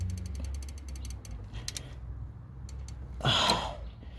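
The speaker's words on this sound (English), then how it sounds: "now I'm gonna tighten up the top bolt" A ratchet wrench clicks in a rapid run of pawl ticks while tightening a bolt on the alternator of a 2010 Toyota Yaris, then a few slower separate clicks and a brief creak, close and clear with no talk.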